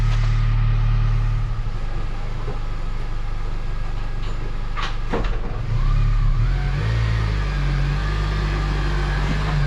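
An 8th generation Honda Civic Si driving on a cruise, steady engine hum and road noise throughout with a slight rise in engine pitch midway, heard from inside the car.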